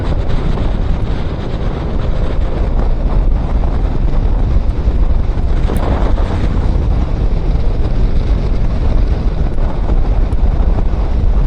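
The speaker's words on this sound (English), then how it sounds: "It's quite windy today." Steady wind buffeting a microphone, a dense continuous rumble and hiss with a faint engine drone underneath, loud and unbroken throughout.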